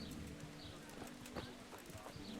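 Horse hooves clip-clop in the medieval game Kingdom Come: Deliverance, a quiet, uneven series of soft hoof thuds over low ambient background, with faint bird sounds.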